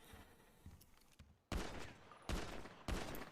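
Rapid bursts of video game gunfire from a first-person shooter, several loud volleys in quick succession with brief gaps between them, close and dominant with no talk.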